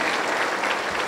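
A brief burst of congregation applause for Jesus during an evangelical church service, dense clapping heard alone for about a second.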